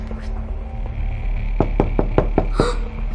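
A door is knocked on in a quick series of about five or six sharp raps, fairly close, over a steady low background hum.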